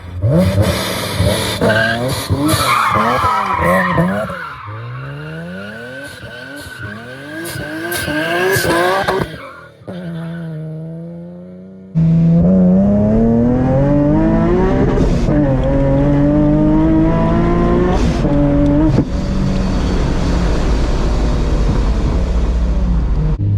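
A boosted Nissan 370Z makes a hard first-gear pull with wheelspin, its engine note rising in repeated sweeps through the gears with tire squeal, then a loud sustained roar building close to the listener.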